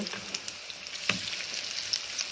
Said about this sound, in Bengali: এখন আমি একটু উল্টে পাল্টে নিয়ে ভাজা দেখাবো, উল্টে দিচ্ছি।